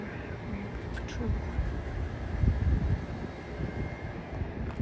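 Horizon Air airliner touching down at SeaTac airport, a distant low rumble of engines and rollout under steady wind buffeting, fairly faint and broad with no sharp events.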